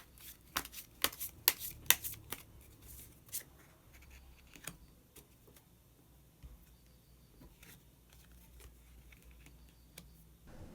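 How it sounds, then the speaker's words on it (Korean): Tarot cards shuffled and a single card drawn, with a cluster of sharp, close riffling snaps early on, then softer, sparse handling sounds in a quiet room. "그러면 마지막으로 히든 카드 한 장 더 뽑아보도록 하겠습니다."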